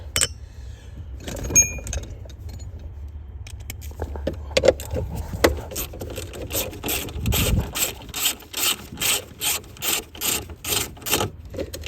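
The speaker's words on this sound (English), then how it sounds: "The next thing we're going to take out is going to be this little air tube right there with a single 7mm socket, 7mm screw." A ratcheting socket wrench turns a 7mm screw on a car dashboard air tube, with scattered handling clicks and rubbing at first, then a quick rhythmic run of crisp ratchet clicks toward the end.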